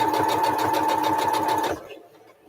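A sewing machine stitches a small woven fabric star, a fast steady mechanical whir for under two seconds, close and loud, then stops.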